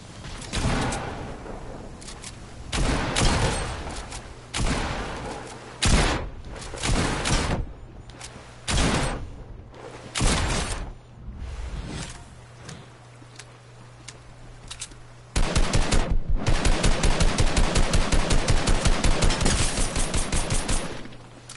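Gunshots in a video game crack out in irregular single shots and short bursts, then give way to a long, steady rapid-fire volley near the end, loud and close with no talking.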